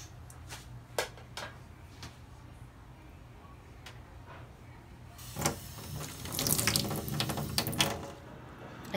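Tap water runs into a sink while pork liver is washed, starting with scattered drips and splashes, then a louder gush of flowing water near the end.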